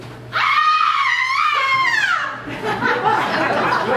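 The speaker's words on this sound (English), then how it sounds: "Suddenly, in the distance, there was a blood-curdling scream." A loud, piercing scream rings out during a tennis skit at Ocean Resorts, a drawn-out wavering shriek that slides downward over a couple of seconds and gives way to noisy crowd commotion.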